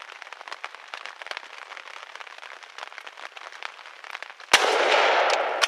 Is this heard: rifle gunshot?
yes